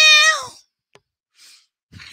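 A single loud, close cat meow with a falling pitch, followed by faint breathy rustles and a soft click.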